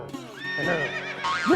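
A horse neighs in a single loud, wavering whinny lasting over a second, close by, rising and falling in pitch, with a faint clip-clop and stirring in the background.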